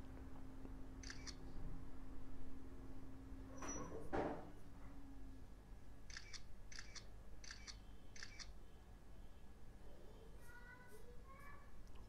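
A Xiaomi Redmi 5 budget smartphone's 5-megapixel front camera fires a single short shutter click near the start, with a quiet room hum and faint later clicks, and someone talks throughout.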